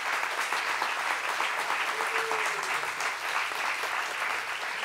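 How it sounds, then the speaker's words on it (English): Sustained audience applause after a panel discussion on Los Angeles creative spaces, a dense, steady roar of many hands clapping at even loudness throughout, with no clear talk over it. "Big round of applause for all of them."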